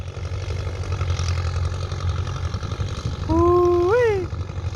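A Ford 6600 tractor idles nearby with a loud exhaust, giving a steady, deep, throbbing rumble. A brief tonal whine rises and falls near the end over the engine.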